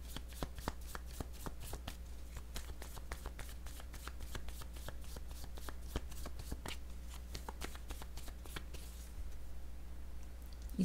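Tarot-style oracle cards being shuffled and drawn, a steady run of crisp, close riffling flicks and snaps repeating alone over a low background hum.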